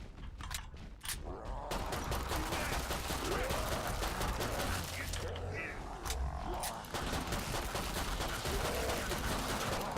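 Dense, sustained gunfire from weapons in the video game Killing Floor 2, with rapid overlapping shots and mechanical clatter filling nearly the whole stretch after a brief quieter start.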